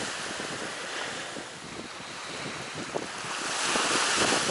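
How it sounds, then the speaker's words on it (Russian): Sea waves break on a sandy beach, a continuous washing surf mixed with wind buffeting the microphone, swelling louder toward the end, with no one speaking. "Вон там одна волна такая, хлоп-хлоп идет, видишь?"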